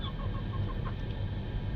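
Backyard chickens softly clucking as they peck at moringa leaves, a few short, faint clucks over a low, steady outdoor rumble.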